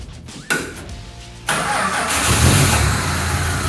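A broken-down car in Australia cranks briefly, then catches and settles into a steady, fairly loud idle that runs on without any talk.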